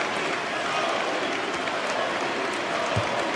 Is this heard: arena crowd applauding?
yes